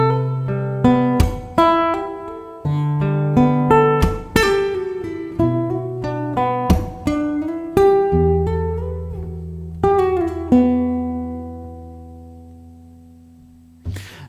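Clean guitar playing bars of a piece, a melodic phrase of plucked notes and ringing chords with slides, played alone and up close, ending on a long sustained chord that fades out.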